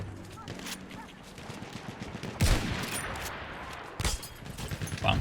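A first-person shooter game fills the space with constant dense battle noise, and two loud gunshot bursts stand out clearly above it.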